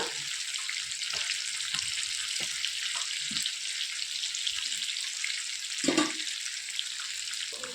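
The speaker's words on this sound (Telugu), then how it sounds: "ఇలా ఒక 10 to 15 మినిట్స్ పడుతుంది అనమాట మనకి ఫ్రై అవ్వడానికి" Chicken pieces frying in a pan give a steady, close crackling sizzle with scattered pops and a brief louder burst near the end, no talking.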